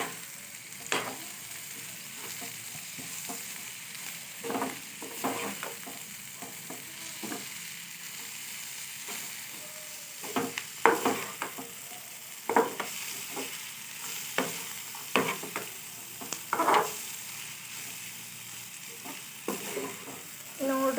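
Onion curry (eerulli palya) being stirred in a frying pan, with steady scraping strokes over a soft continuous sizzle, close and fairly quiet, with no voices.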